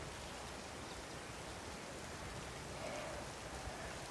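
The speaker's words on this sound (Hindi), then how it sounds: "आज फिर से बारिश आ रही है" Steady rain falls over a village, a dense even hiss of drops on surfaces that holds constant throughout with no voices.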